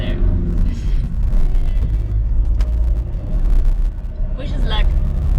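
A car grinds slowly up a rough hillside toward a campsite in Cabo de Gata National Park, Andalusia, its engine a close, uneven rumble while people talk over it.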